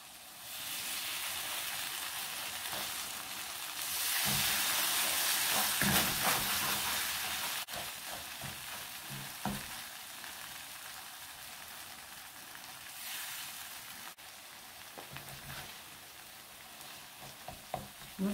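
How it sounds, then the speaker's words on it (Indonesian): Flour-water batter poured bit by bit into a hot pan for an oyster omelette, giving a continuous frying hiss that swells early on, then settles into softer sizzling with a few faint utensil taps. "Nah, kemudian tadi air tepungnya ini kita masukkan sedikit-sedikit."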